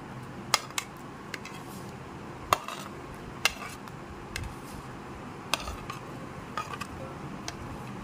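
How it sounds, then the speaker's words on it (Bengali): A spoon stirs fruit pieces into soaked sago dessert in a bowl, giving soft, irregular clinks and taps at a low level. "এবার ফলের টুকরোগুলো এক এক করে মিশিয়ে নিচ্ছি"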